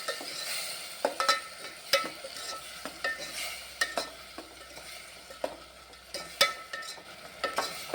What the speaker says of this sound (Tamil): வெங்காயம் நல்லா தக்காளி பச்சை வாசனை போகிற அளவுக்கு வதக்கி